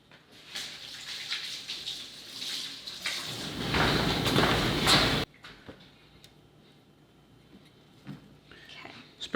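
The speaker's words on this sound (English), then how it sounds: "Rinse my hands off." Tap water runs loudly while hands are rinsed beneath it in a kitchen, the splashing swelling before the faucet cuts off abruptly, leaving faint clicks and room noise.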